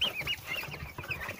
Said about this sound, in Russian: Прям идет индюк